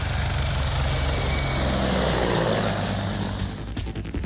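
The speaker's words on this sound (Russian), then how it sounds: "Несколько секунд, и вертолет пролетает над целью." A loud, steady rotor and engine roar fills the clip, a Mi-35P helicopter passing low and close overhead, with a fluttering beat emerging near the end.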